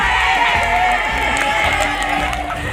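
Young children at a preschool session clap and cheer together, a steady, busy wash of hand claps and shouting voices running through the whole stretch at close range.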